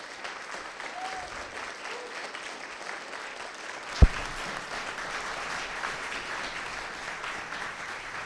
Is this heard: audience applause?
yes